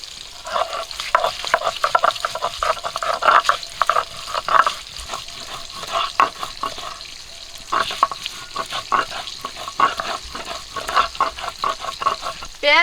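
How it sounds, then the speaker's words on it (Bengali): Big grass carp fish pieces hitting hot oil in a village kitchen, a steady crackling sizzle with rapid popping and stirring scrapes, fairly close and continuous throughout. "তেল গরম হয়ে গেছে মাছ দিয়ে দিচ্ছি"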